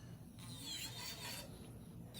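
An electric nail drill smooths an acrylic nail, giving a steady whirring, rasping grind that rises as the bit presses on the nail, then eases off again.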